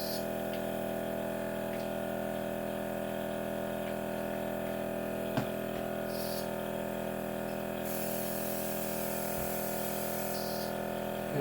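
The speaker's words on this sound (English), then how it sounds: "I'm going to spray this out" Airbrush spraying Rock Candy makeup in a steady, continuous hiss with a constant compressor hum underneath, a couple of brief louder bursts of spray near the middle and end.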